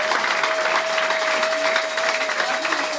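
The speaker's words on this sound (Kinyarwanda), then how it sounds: "kongera Imana amashyi mu izina rya Yesu" Church congregation applauding, a loud continuous wash of many hands clapping with a steady tone ringing underneath, sustained throughout with no distinct voices.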